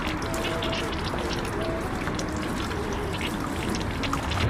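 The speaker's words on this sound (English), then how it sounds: "the longest time spraying water from the mouth" A man sprays a continuous stream of water from his mouth in a world-record attempt, producing a steady, loud hissing splatter of water that holds unbroken throughout.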